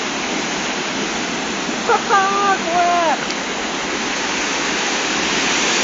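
Big typhoon waves crash in a continuous loud wash of broadband roar and surf noise, with a brief voice calling out partway through.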